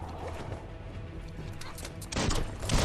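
Weapon fire in the action game Biomutant, a rapid cluster of loud shots bursting out near the end after a stretch of busy mechanical game noise.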